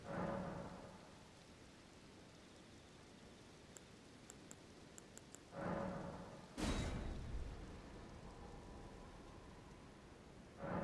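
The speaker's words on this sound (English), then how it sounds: "does it always rain here?" Rain in the video game Elden Ring: a soft, steady hiss of falling rain with a few swells, a couple of brief clicks, and a sharp distant crack near the middle. No voices.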